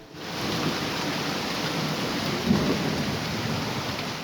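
Heavy rain pours down steadily during a hailstorm at a farm ranch, a dense continuous wash of noise with a low rumble of thunder swelling briefly midway.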